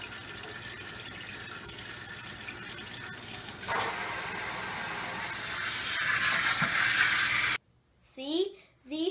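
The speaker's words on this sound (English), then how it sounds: "Wash the leaves really well." Sweet potato leaves are washed under running water in a sink, a steady splashing rush that swells midway before cutting off, followed by a brief stretch of speech.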